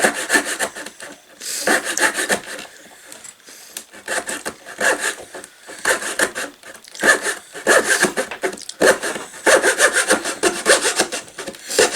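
An Army Painter hobby saw cuts through wood for a child's art easel, giving steady back-and-forth rasping strokes in close, loud, rhythmic bursts with brief pauses.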